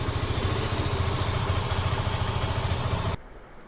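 A motorcycle engine idles steadily after an oil flush and oil filter change, a smooth, even low-pitched throb running close and alone for about three seconds before cutting off abruptly.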